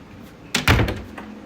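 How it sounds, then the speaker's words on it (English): An indoor door pushed shut in a darkened room, one close, solid thud with a brief rattle as it settles. "let me close this door too"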